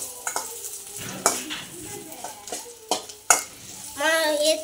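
Nungel fish frying in coconut oil in a pan, with intermittent sizzling and sharp clinks and scrapes of a utensil stirring and turning the pieces, close and moderately loud.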